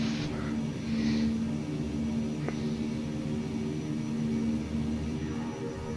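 A steady turboprop engine drone from a King Air C90 in the X-Plane 12 flight simulator at takeoff, a constant whining hum holding at an even level throughout.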